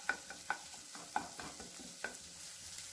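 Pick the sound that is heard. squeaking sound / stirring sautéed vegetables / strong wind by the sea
stirring sautéed vegetables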